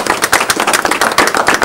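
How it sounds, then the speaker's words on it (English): Applause from an audience at a state board of education meeting, a dense burst of many hands clapping close and loud with no talk. "let's go ahead and clap now."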